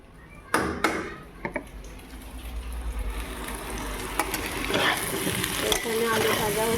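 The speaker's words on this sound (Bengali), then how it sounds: "এখানে আলু ভাজা হচ্ছে।" Potatoes fry in a pan for chicken curry, a moderate sizzle broken by several sharp clatters of a spatula or utensil against the pan, with light stirring throughout.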